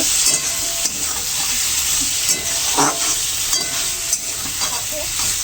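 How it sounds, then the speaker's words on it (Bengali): Minced meat and potatoes being stir-fried in a pan for ghugni in a home kitchen, a steady broad sizzle with scattered scraping stirs and clacks of a spatula against the pan, close and fairly loud, no talking. "এই যে দেখতে পাচ্ছ মাংস কিমা দিয়ে এবার আমি একটু কষিয়ে নেবো"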